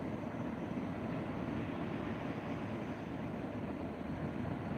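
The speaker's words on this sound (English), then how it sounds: "Excuse the noise, that's the kettle." A loud, steady broadband roar of an electric kettle at a rolling boil, constant and close throughout with no talking.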